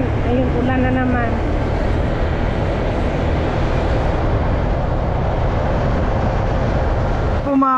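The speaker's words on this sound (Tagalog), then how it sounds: "Inabot po tayo dito ng ulan." Heavy rain pours down during a motorcycle ride, a dense, loud, steady roar of rain and rushing wind that fills the whole stretch without letup, with a voice talking briefly near the start and again at the very end.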